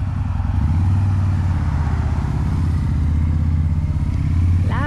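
A 2004 Harley-Davidson V-Rod's engine idles close by in a steady, loud, low rumble that holds evenly throughout with no talk over it.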